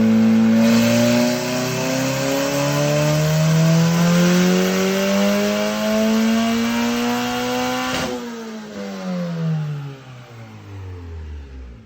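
A Honda K-series swapped Porsche 911 revs hard on a dyno, its engine note climbing steadily for about eight seconds before the throttle snaps shut and the revs fall away, loud and close with no talk.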